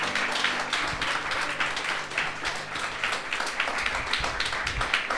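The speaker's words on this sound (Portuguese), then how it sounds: "Mas dê um aplauso a Jesus" Congregation clapping during a church service, a steady dense patter of many hands that holds for several seconds at moderate level, with a faint voice now and then underneath.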